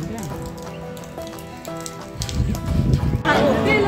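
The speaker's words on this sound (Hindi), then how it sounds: "बारिश हो रही इसलिए रुकना पड़ा हमें यहाँ पर।" Rain falls at a roadside stop by a petrol pump, a broad patter that grows louder partway through. Voices and tonal sounds carry over the rain at first.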